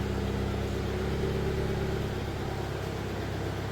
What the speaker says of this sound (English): I like how the car stays running